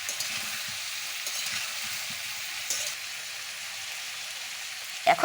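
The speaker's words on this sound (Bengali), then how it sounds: "দিয়ে দিচ্ছি গোটা গোটা কাঁচা লঙ্কা একটু চিড়ে নিয়ে" Whole slit green chillies frying in a pan of mixed vegetables, giving a steady, close hissing sizzle throughout with a brief clatter at the very end.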